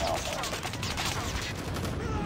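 Rapid AK assault rifle gunfire in the mobile shooter Call of Duty Mobile, a dense continuous burst of shots running steadily for the whole stretch at a loud, even level.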